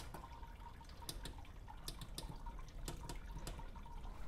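While an amber ale is being brewed, liquid drains quietly and steadily, with soft trickling and occasional drips and splashes in the background.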